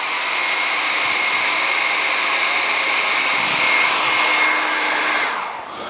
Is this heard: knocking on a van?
no